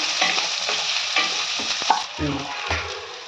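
Onions sautéing in a pan for mint rice, a continuous sizzle with repeated scraping stirs of a spoon against the pan.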